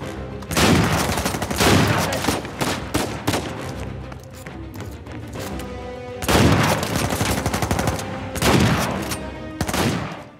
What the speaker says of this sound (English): Going in with the shotgun, though. This thing's a monster.